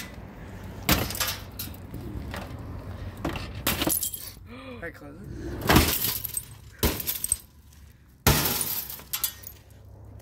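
Glass from a new green oven breaks and shatters, several sharp crashing bursts and tinkling fragments spread over the clip, loud and close, with people talking in between.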